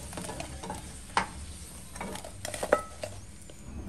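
Afghan minced-meat kebabs frying in oil give off a soft, steady sizzle, broken by a couple of sharp clinks as they are turned in the pan.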